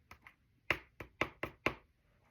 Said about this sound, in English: Suddenly, Percy heard a tapping.